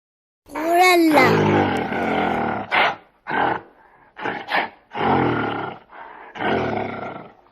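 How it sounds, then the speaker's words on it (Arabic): A gorilla roars and growls loudly, a long rising bellow followed by a series of shorter, gruff pulses heard up close with no other sound. "غوريلا."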